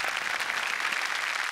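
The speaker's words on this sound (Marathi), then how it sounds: "त्या नाटकासाठी एकदा जोरदार टाळ्या." An audience applauding a one-man Marathi stage play: a short, dense burst of clapping from a crowd, even and sustained with no voices.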